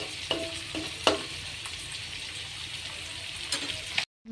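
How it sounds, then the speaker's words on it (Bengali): Small puti fish frying in hot oil, a steady close sizzle with a few sharp spits and crackles, ending in a brief moment of silence. "এবার মাছগুলো ভাজা হচ্ছে"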